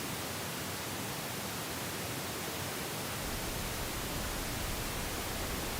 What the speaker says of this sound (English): This is a pink noise.